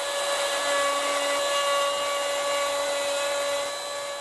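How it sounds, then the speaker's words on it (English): Trend KWJ700 worktop jig guiding a router as it cuts bolt holes in a wooden worktop, a steady high-pitched whine running loud and continuous throughout with no talk. "So now we've cut the bolt holes,"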